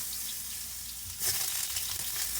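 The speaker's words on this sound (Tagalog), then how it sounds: "Una po natin gagawin ay gigisa po natin sa saluya." Ginger is sautéed in a pan as the first step of pork pata. A steady background hiss turns into a brighter, louder sizzle partway through and stays close and even to the end.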